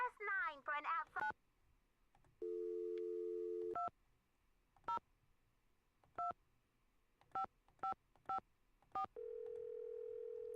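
Telephone keypad tones in a Nancy Drew video game: a quick run of beeps, then a long steady tone, then single spaced key presses ending in another sustained tone, clear and close with no talk.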